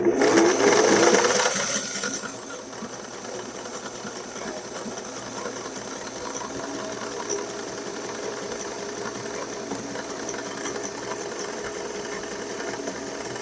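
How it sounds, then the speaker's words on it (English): A sewing machine stitches half square triangle quilt blocks a quarter inch from a drawn line, running steadily and fairly close at an even whir for most of the stretch after a louder opening moment. "we're going to sew 1/4 inch away on both sides of the line"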